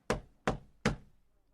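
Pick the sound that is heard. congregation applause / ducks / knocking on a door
knocking on a door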